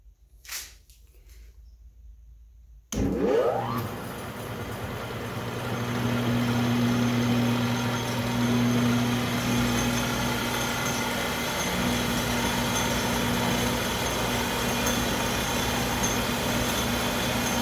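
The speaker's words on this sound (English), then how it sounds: "First time this lathe has been up to 2200 RPM in quite some time." An Atlas 10-D lathe starts up and runs at 2200 RPM, a steady loud mechanical whir with a strong hum after a brief quiet start, continuing evenly throughout.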